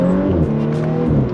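A B9 Audi S4 accelerates hard, its engine note climbing in pitch with a loud, close, rising growl that shifts and continues to pull smoothly.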